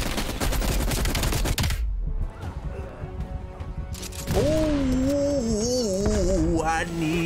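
A 200-round machine gun firing in Call of Duty Black Ops Cold War, a loud, rapid burst of shots for about two seconds, then a lull and more gunfire as tonal game sounds and voices rise.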